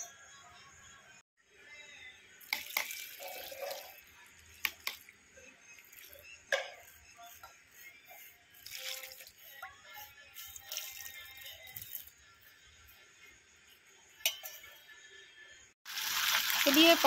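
Water poured little by little onto potted plants, including small ones set near a pillar, comes in short intermittent splashes and trickles with quiet gaps between, ending in a louder rushing pour.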